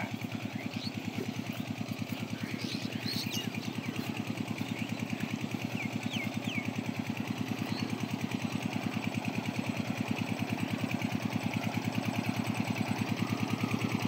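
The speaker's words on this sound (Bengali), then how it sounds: "এই যে স্যালো মেশিন চলছে, আওয়াজ শুনছে দেখুন, ডক ডক ঘর করে আওয়াজ হচ্ছে স্যালো মেশিন" A shallow tube-well irrigation pump engine runs out in a vegetable field, thudding in a fast, even, relentless chug that stays close and steady throughout, with faint outdoor sounds above it.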